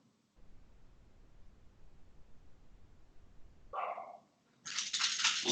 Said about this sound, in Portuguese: O cachorro tá latindo aqui, gente.